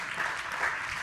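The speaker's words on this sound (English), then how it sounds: "I think we give a round of applause to the panel." Brief burst of audience applause for a panel at a private sector development programme review, a dense, even wash of many hands clapping at moderate level with no voices.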